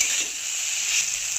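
A cauliflower paratha filling with spices, lemon juice, cumin and coriander fries in a pan, giving a steady, fairly loud hiss of sizzling throughout.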